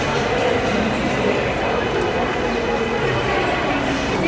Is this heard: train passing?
yes